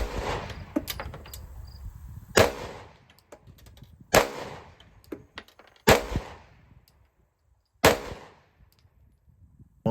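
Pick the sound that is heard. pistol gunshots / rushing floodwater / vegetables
pistol gunshots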